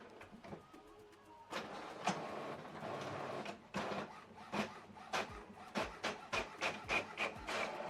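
HP OfficeJet Pro 9135e printer feeding and printing a page, a faint series of rhythmic mechanical clacks and sliding whirs from the print head, starting after a quiet moment.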